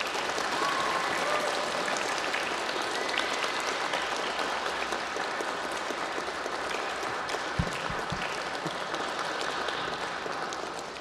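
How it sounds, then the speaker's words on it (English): A chapel audience applauds a departing first-grade teacher, a dense, steady wash of many hands clapping that holds evenly for about eleven seconds before easing slightly at the end. "Can we give her a little round of applause?"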